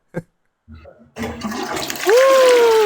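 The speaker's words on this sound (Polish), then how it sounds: "I spuść wodę!" A toilet flushes after a couple of brief knocks and clicks, water rushing in loud and close and building into a sustained gush with a high whining tone over it.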